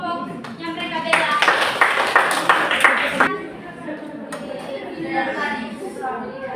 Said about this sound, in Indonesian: Oke, terima kasih tepuk tangan.